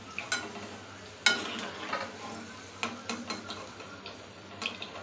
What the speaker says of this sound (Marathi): अशा पद्धतीने मी सगळ्या भेंड्या तळून घेते